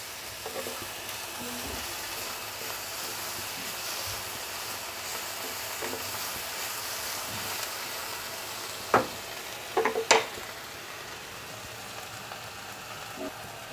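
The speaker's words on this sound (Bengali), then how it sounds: "শুটকিটা একটু নেড়ে চেড়ে যাতে গলে যায় এভাবে একটু করে নেব।" Dried fish and slit green chili sizzle steadily in a frying pan while being stirred, a soft continuous hiss broken by a few sharp scrapes and clinks of the spoon near the end.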